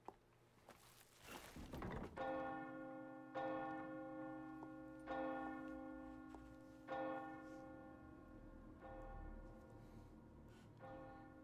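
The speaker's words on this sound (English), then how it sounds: "She is gonna ring the church bell." A church bell tolls in the Resident Evil 4 video game, a series of loud, resonant strikes about every two seconds, each ringing out and decaying while the next overlaps.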